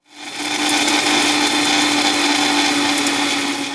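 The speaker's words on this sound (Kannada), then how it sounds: "ಏಲಕ್ಕಿನೂ ಆ್ಯಡ್ ಮಾಡ್ತಾ ಇದ್ದೀನಿ ಚೆನ್ನಾಗಿ ಗ್ರೈಂಡಾಗಿ ಬರುತ್ತೆ ಇವಾಗ ಗ್ರೈಂಡ್ ಮಾಡ್ಕೊಳ್ಳೋಣ" A mixer grinder whirs with cardamom pods inside, starting up abruptly and holding a loud, steady motor whine with gritty rattling throughout, close and without voices.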